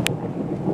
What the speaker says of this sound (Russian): Слышите, гром?